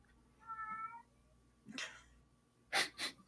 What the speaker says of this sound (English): The cat will talk while you're working.